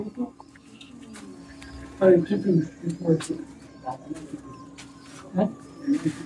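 Madrasi pigeons in a loft give low, rounded coos in short bursts, close by, under some background talk and other faint bird sounds.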